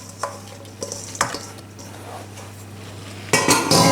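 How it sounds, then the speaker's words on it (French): Apple cake batter with apple pieces folded in, mixed by hand with a spatula: a few scattered soft scrapes and knocks against the bowl, close and fairly quiet, with a louder burst of stirring at the end. "je mélange mon gâteau à l'aide de la spatule pendant 1 minute"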